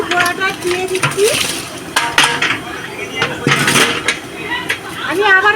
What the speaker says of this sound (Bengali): দেখুন এই জলের মধ্যে আমি বড়াটা দিয়ে দিচ্ছি।